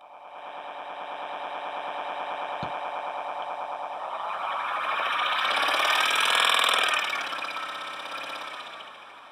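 A synthesized engine from a Pure Data patch hums in a buzzy, knocking idle, then swells to a louder rev around the middle before easing back, with one sharp click early on and no voice.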